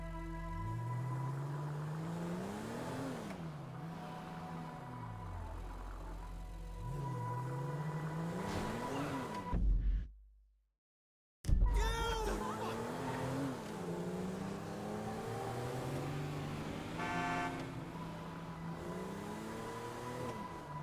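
A car in the GTA 5 game drives through city streets, its engine revving up and down through repeated gear changes. It cuts to silence for about a second midway, then resumes at close range.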